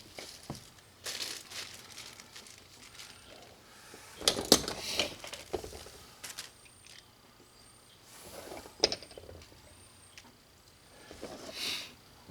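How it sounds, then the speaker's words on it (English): Handling of the window crank on a 1999 Ford F-150 door during a speaker install, giving soft plastic crinkles, ticks and a few sharp clicks near the mic, with louder bursts around the middle and near the end. "Window crank."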